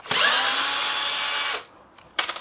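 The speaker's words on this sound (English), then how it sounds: "we just unscrew this. In fact, I'll do it now and I'll show you." A power drill unscrews screws from a post, whining loudly and steadily for about a second and a half before stopping, then a short burst of clattering handling sounds.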